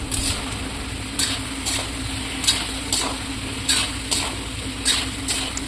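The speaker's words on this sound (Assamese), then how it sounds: "আলুখিনি দি এতিয়া অকণমান সময় আকৌ ভাজি ল'ম" Potatoes frying in a pan with chicken curry masala and spices, a steady close sizzle broken by repeated scraping stir strokes at a regular rhythm, with no voices.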